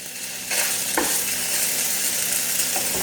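Bacon frying on a non-stick griddle, a steady broadband sizzle that rises in loudness after a short quieter start, with a few brief scraping clicks from the strip being moved, close and continuous with no voices.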